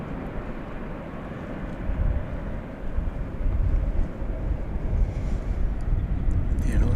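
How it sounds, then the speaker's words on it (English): Continuous jet rumble from an American Airlines Airbus A321 arriving at DFW Airport builds after the first few seconds and holds at a moderate, distant level over outdoor background noise. "We are about to be greeted by American Airlines Flight 1456 from Salt Lake City"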